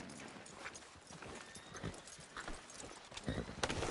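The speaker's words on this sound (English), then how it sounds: "Are you gonna mount that new horse of yours or not?" Horse hooves clip-clop in Red Dead Redemption 2, a quiet, uneven patter of hoof strikes on the ground with occasional louder knocks, heard faintly beneath other game sounds.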